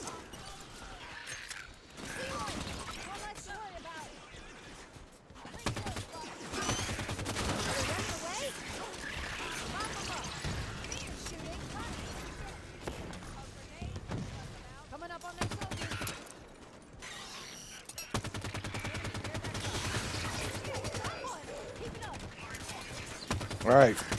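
Gunfire in Halo 5: Guardians on Xbox One crackles in repeated bursts of automatic fire mixed with game effects and clashes, loud and continuous across the scene, while a person talks over it.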